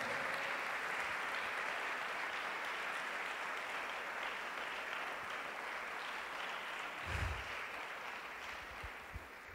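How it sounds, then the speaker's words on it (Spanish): Sustained applause from a church congregation fills the whole stretch, steady and dense, tapering slightly toward the end. "Vamos a darle un aplauso al Señor esta tarde."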